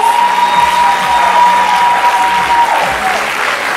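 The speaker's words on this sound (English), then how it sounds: "Ladies and gentlemen, let's give the cast a round of applause." Loud audience applause for the cast of a stage play, a dense roar of clapping mixed with crowd cheering and a few whoops, continuous throughout.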